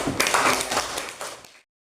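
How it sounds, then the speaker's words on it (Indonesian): A classroom of students claps together in a brief, dense burst of hand clapping that holds steady for over a second and then stops abruptly. "Tepuk tangan dulu semuanya."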